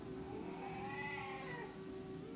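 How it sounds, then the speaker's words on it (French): A hungry cat meows for wet food while headbutting a leg, one drawn-out plaintive meow rising and falling near the microphone against quiet room noise. "Il y a un chat qui est en train de me foutre des coups de tête dans la jambe pour avoir de la pâtée."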